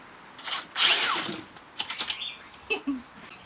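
A Makita 40V earth auger bores into sticky clay and strains under heavy torque, giving short loud motor bursts that stutter and cut out in uneven spurts over about three seconds.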